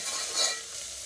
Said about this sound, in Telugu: ఇప్పుడు వెంటనే మనం ఆ కొబ్బరి ఏదైతే మనం మిక్సీ జార్లో వేసుకొని మిక్స్ చేసి పెట్టుకున్నామో దాన్ని వేసి దాన్ని కూడా కలుపుకుంటాం